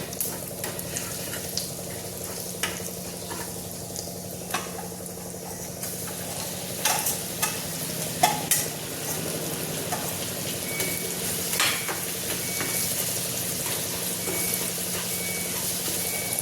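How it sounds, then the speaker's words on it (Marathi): Ground masala paste sautéing in a pan for a chakwat leaf dish, a steady rain-like hiss of frying with occasional spoon scrapes and clicks, close and even throughout. "आता हे छान परतून घ्यायचं"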